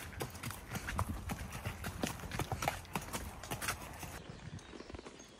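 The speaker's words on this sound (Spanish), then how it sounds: "Miren nomás la caballada." A herd of horses walking on a ranch in Sonora, with dense, irregular hoof clip-clops close by and a faint voice in the background, the footfalls thinning toward the end.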